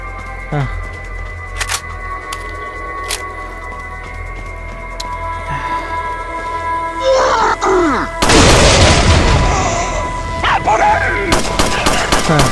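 Rapid-fire gun shooting in the Resident Evil 4 Separate Ways video game, sharp sporadic shots giving way to a loud sustained burst of automatic fire near the end, with game sounds and a voice around it.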